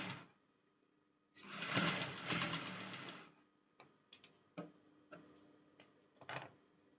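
A sewing machine stitching a blouse runs in one loud continuous burst, then gives a series of separate faint ticks and clicks as the stitching pauses and restarts.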